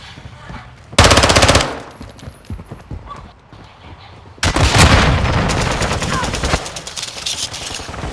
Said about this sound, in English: Why are you shooting at me when you're getting shot?